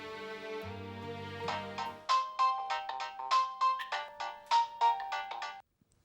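A telephone ringtone plays a bright, repeating electronic melody of short, evenly spaced tones that follows a sustained musical chord and then cuts off abruptly.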